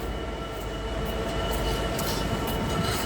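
British Rail Class 158 diesel train at Nottingham: a steady rolling rumble of wheels on track, with faint squeals and clicks over a continuous low drone, moderately distant.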